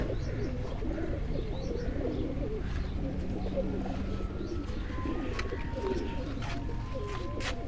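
Pigeons coo continuously in a dense, close chorus of overlapping calls at a Punjabi pigeon-flying loft, with occasional high chirps and faint voices mixed in.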